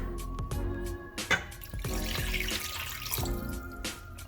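Water is poured into a pot of chicken adobo already holding chicken, soy sauce and vinegar, giving a steady, close splashing rush that runs for several seconds with a few brief louder splashes.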